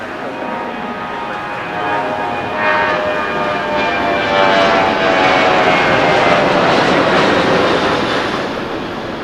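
An airliner takes off from runway 6 Right at LAX on a stormy day, its engines roaring loud and steady throughout with a broad rumbling swell and no talk over it.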